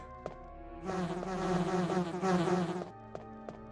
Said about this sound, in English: Oh god, I don't like the bees at all.